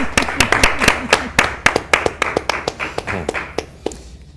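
An audience claps in quick, sharp, slightly uneven bursts for an elderly woman still studying, the claps close and distinct before thinning out toward the end.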